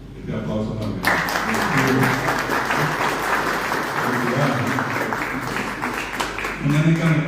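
Sustained audience applause at a cultural tribute ceremony, a dense, even wash of clapping filling the room for several seconds, loud and close with a brief lull near the end.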